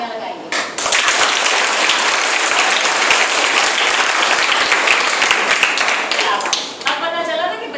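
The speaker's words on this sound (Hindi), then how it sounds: "तो इंटेलिजेंट होने के लिए आप कितनी जोर से तालियां लगाएंगे?" Loud, dense clapping from a room full of seated children at a traffic safety awareness camp, a sustained burst of applause lasting several seconds before tapering off, with a few voices rising near the end.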